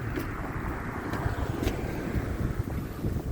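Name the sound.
wind on a cold winter morning walk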